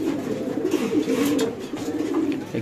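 Pigeons coo steadily at a market stall where birds are sold with eggs and chicks, a continuous low burbling chorus from several nearby birds with a faint bit of background bustle.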